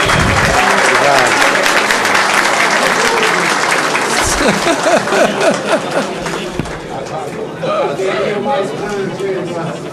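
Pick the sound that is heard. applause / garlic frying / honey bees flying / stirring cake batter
applause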